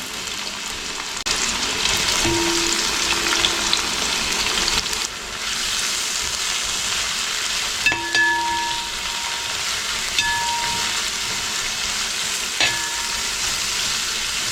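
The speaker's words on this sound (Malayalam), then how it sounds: "അപ്പോൾ നമ്മൾ അരിഞ്ഞു മാറ്റി വെച്ചിരിക്കുന്ന സവാള ചേർത്ത് കൊടുക്കുകയാണ്." Chopped onions frying in hot coconut oil in an uruli, Kerala style, producing a steady, close hiss of sizzling with occasional metallic scrapes and taps from stirring.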